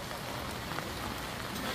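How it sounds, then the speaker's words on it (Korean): Heavy rain falls steadily on an outdoor market day, a dense, continuous hiss of drops pattering on surfaces and awnings with no other sounds standing out. "오늘 비가 많이 오고 있습니다."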